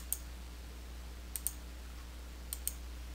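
A computer mouse gives five sharp, faint clicks in two quick pairs after a single opening click, spaced apart over a low steady hum, with no voices.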